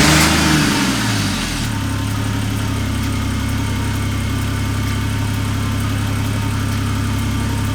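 Ford FG Falcon ute engine fitted with a big turbo, starting up with a brief rising rev, then settling into a loud, steady, close idle.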